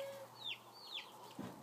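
Chickens, including Araucana-type birds, give a few soft clucks and chirps close by in a quiet setting, with brief gaps between calls.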